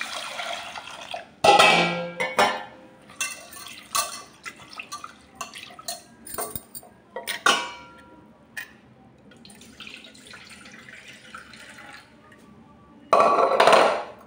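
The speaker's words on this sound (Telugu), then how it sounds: "రెండు గ్లాసులు వాటర్ పోసుకొని పప్పులో నానబెట్టుకుందాము" Water poured from a glass into soaking toor dal in a kitchen, heard as splashy pours and drips with light clinks of vessels, louder bursts at the start and end with quieter trickles between.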